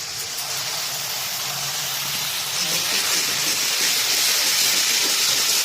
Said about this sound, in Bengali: এবার দিয়ে দিচ্ছি এই পেস্টটা